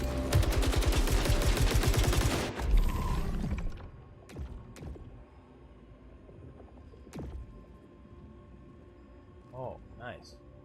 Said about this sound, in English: I'm gonna go with the machine gun